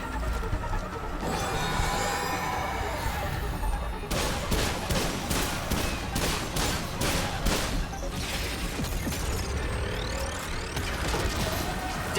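Gunfire during a double boss fight in a video game: a quick string of evenly spaced loud shots in the middle, with battle noise and clanking mechanisms before and after.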